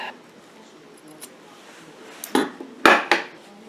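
Scissors snipping a small piece off a quilt, a few short crisp cuts close by near the end after a quiet stretch.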